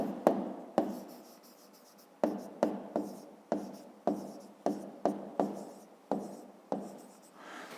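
Pen writing by hand on paper during a fifth-grade maths exercise, a series of short scratchy strokes with brief pauses between, close and fairly quiet with no voices.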